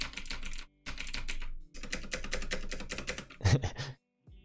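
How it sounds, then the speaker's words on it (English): Clicky computer keyboard keys typing in rapid bursts with brief pauses, close and crisp, ending with a few louder, heavier key strikes that suggest a loud space bar. "Oh, maybe you like the clicky keys."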